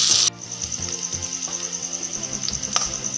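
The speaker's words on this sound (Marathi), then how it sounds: "आपल्याला एक चमचा तेलामध्येच कांदा भाजून घ्यायचा आहे" Chopped onion frying in a spoonful of oil for a Puneri misal masala, a steady soft sizzle with faint rhythmic scraping underneath, heard close and alone after a brief hiss at the start.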